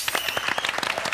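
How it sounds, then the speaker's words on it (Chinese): A studio audience claps in a short, lively burst of applause, many hands close together in a dense patter with no talk. "热烈掌声！"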